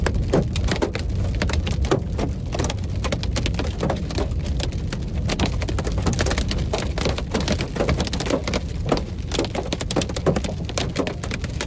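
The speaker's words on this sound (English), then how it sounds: "Seems like mostly smaller hail." Small hail pelting a vehicle during a Colorado storm, a dense, continuous rattle of rapid impacts on the body and roof, loud and close throughout with no voices.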